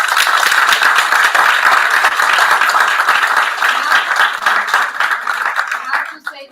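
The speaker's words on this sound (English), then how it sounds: "A big clap for him" An awards ceremony audience applauds steadily with dense, sustained clapping that gradually thins out and fades toward the end.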